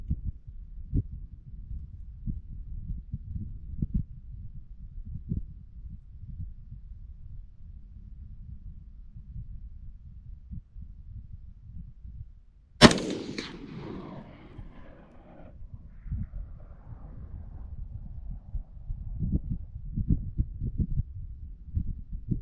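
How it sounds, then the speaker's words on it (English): A single sharp rifle report from an AR-15 cracks out at an outdoor range partway through, with a brief decaying echo, otherwise quiet low rumble before and after. "All right, here we go, two more shots."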